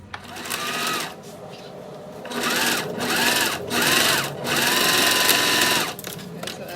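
Sewing machine stitching pattern pieces for a ladies' wallet, running in several short bursts of rapid whirring separated by brief pauses, up close, with someone speaking between and over the runs.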